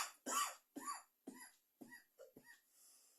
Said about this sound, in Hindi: सॉरी खांसी आ रही है।